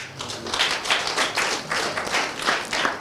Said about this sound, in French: en premier Daniel Simon, que je vous invite à applaudir